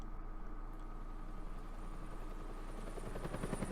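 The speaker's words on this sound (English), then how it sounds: "And we're starting off with a helicopter again." Helicopter in the video game Batman: A Telltale Series, producing a steady, moderately loud rotor drone that holds throughout, with rhythmic blade chopping growing more prominent toward the end.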